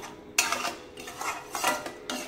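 Spoon stirring mushroom pasta gravy in a pan, a run of soft scraping, clinking strokes in uneven bursts, close and moderately quiet with no voices.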